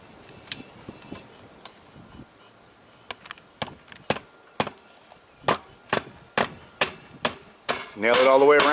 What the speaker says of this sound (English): Nail it all the way around.